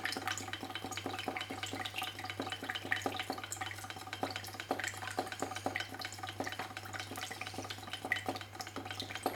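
Homemade fuel is stirred with a small amount of additive in a bleaching wash, giving faint, soft, repeated sloshing and clinking strokes in a quiet room over a low steady hum.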